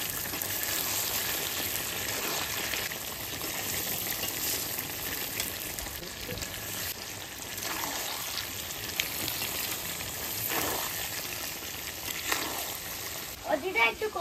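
Potato and papaya frying in a pan, a steady broadband sizzle running throughout with occasional stirring, with voices talking over it.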